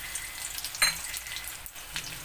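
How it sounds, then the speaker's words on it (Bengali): Chopped garlic goes into hot oil with lightly fried chilli, a quiet, crackly sizzle with a brief sharper burst near the start. "রসুন এর মধ্যে দিয়ে দিলাম।"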